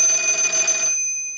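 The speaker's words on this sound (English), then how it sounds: "We're going to let it ring one more time." A PTT business telephone rings, one loud electronic trill lasting about a second before it cuts off and fades quickly.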